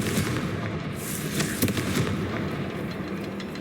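Confringo fire blast spell in the Hogwarts Legacy video game, dense booming and crackling bursts rolling continuously under a loud game soundscape, no talking.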